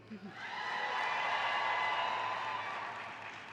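A conference audience from private schools makes noise in response to a keynote welcome, a broad wash of crowd cheering and clapping that swells quickly, holds steady and fades slightly toward the end.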